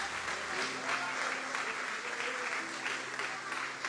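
A church congregation applauds in a sustained, dense wash of clapping with sustained music or voices underneath, steady and fairly distant throughout.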